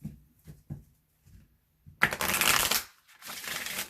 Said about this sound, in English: they shuffle like I knew they would